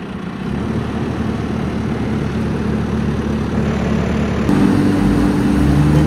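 A heavy engine runs at a steady low idle on a cattle farm, a loud continuous rumble that thickens slightly in the last seconds, with no talking.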